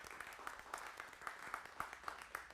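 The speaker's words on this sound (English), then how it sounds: "So let's give them a huge round of applause." An audience at a conference plenary session claps together, a faint, steady patter of applause heard from a distance.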